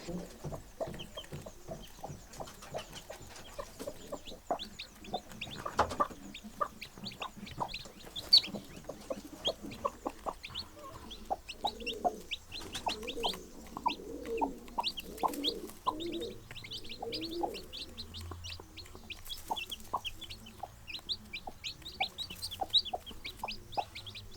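A hen clucks softly and repeatedly in her nest while chicks peep in quick, high chirps around her, close by and fairly quiet, with no talking.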